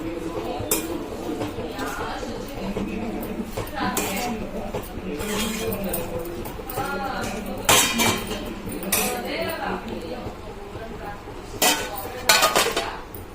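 Cookware clinks and a lid settles onto a pot of flat bean, egg and tomato curry, sharp metallic clatters popping out over steady kitchen noise while a person talks throughout.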